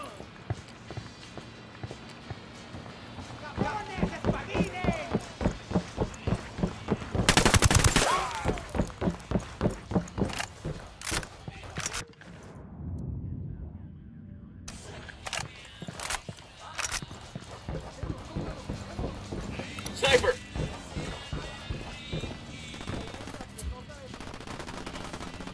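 Repeated rapid gunfire bursts in Ghost Recon Wildlands, a steady rhythm of loud close shots with a heavy blast midway, broken by pauses and under sporadic radio-style voices and game ambience.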